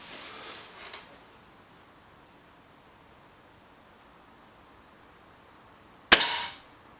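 A single sharp crack from a BSA Lightning SE air rifle firing at a target, loud and abrupt near the end after several seconds of quiet hiss and a faint rustle at the start.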